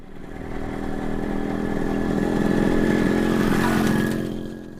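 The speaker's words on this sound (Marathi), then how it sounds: "that is motor cycle" A motorcycle engine passes outside, rising from a steady drone to a louder, closer roar around the middle before easing off, heard alone with no talking.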